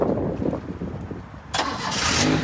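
A car engine being started close by: a short stretch of cranking, then the engine catches about halfway through and settles into a loud, rough running roar with no talk.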